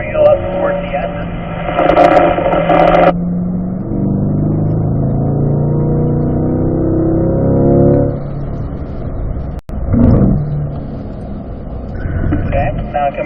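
A race car on a track accelerates out of a corner, its engine note rising in layered, climbing tones before easing off, loud and close inside the car, with someone talking over parts of it.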